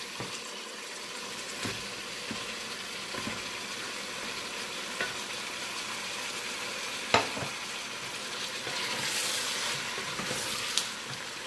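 Tomatoes added to whole spices frying in oil for chicken karahi, a soft continuous sizzle with occasional stirring knocks, fairly quiet and steady with no talk.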